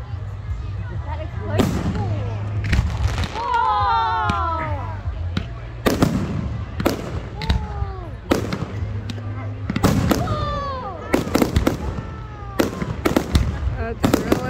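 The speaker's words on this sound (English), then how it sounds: "explosion! That's really lighting up everything!" New Year fireworks at Loch Sport burst in loud, sharp bangs with whistling, crackling trails, some close and some distant, spread unevenly across the stretch while people cheer and talk underneath.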